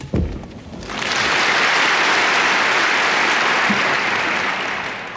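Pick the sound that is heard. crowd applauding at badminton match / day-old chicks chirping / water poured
crowd applauding at badminton match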